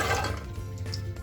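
Water pours and splashes into a pressure cooker over soaked chickpeas, a short close burst of running, dripping liquid with no talk.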